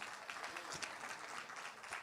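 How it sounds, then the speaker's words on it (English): An audience at a talk on Africa's creative economy claps steadily, welcoming a speaker with soft, distant, continuous applause. "Please keep the applause coming."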